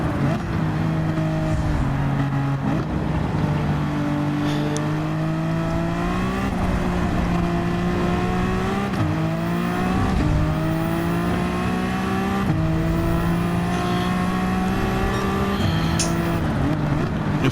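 Race cars roar past on a track, engines droning and shifting pitch through gear changes, loud and continuous with a Toyota among the field.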